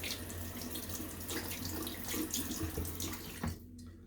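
Tap water runs steadily into a sink while a double-edge safety razor is rinsed under it, a close, continuous splashing rush that cuts off near the end.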